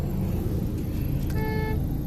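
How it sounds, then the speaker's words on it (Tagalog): Road traffic on an evening drive, a steady close rumble of car engines with a brief horn-like tone near the end, no talking. "Traffic."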